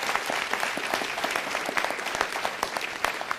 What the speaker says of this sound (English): All right, give them a nice round of applause.